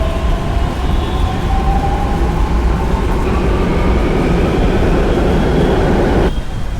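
A Mumbai metro train runs loudly and steadily, with a continuous rolling roar and whining tones that drift in pitch, close by and without talk.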